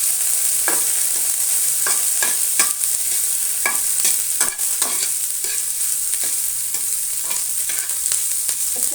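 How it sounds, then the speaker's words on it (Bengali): Chopped green chilli and ginger stirred in a frying pan, a constant hiss of sizzling oil with regular scraping strokes of a spatula against the metal, close up and with no voices. "লঙ্কা কুচি, আদা কুচি, দিয়ে একটু নেড়ে চেড়ে নিলাম।"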